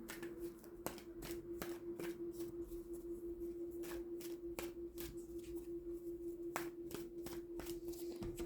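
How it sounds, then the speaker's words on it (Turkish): Tarot cards being shuffled and drawn by hand: a quiet run of crisp, repeated card flicks and taps at an irregular rhythm over a steady faint hum, close by with no talking. "Bir bonus kart çekmek istiyorum."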